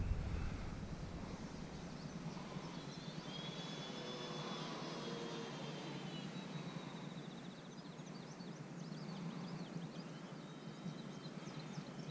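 An FMS F4U Corsair RC model airplane flies with its gear going up right away, giving a steady, faint electric whine with rising and falling pitched tones over constant wind-like noise throughout.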